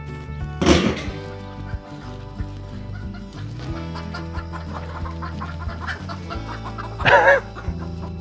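Chickens cluck softly and intermittently alongside scattered thumps and rustling, with a couple of louder squawky bursts near the start and end.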